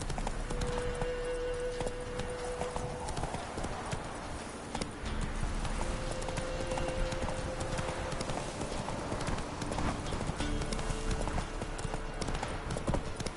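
Roach the horse's hooves clip-clop at a steady walking rhythm throughout in The Witcher 3, loud and close, with a faint tonal hum of game ambience underneath.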